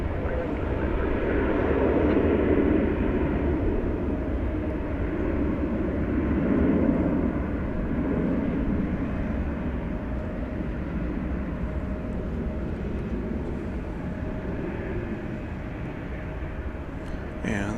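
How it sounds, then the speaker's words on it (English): An American Airlines Airbus A320 from 2000 departs at night from Dallas Fort Worth airport, a steady broad jet roar rumbling at a distance throughout without fading. "American Flight 1303 off to Spokane, Washington. This is an Airbus A320."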